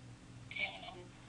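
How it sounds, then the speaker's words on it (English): A Cisco CUCM desk phone dials extension 2001, producing one short, faint touch-tone beep over a low electrical hum. "Let me call Joe here at 2001"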